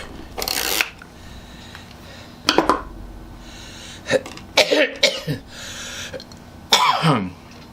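Several sharp coughs and throat-clearing bursts come in separate fits, close and loud, with quiet gaps between them.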